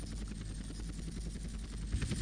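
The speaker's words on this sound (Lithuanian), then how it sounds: "Nuleidžiam savo sraigtasparnį." A helicopter in the video game GTA San Andreas comes in to land, its rotor chopping in a steady rhythmic beat under a continuous engine whine, moderately close and without talk.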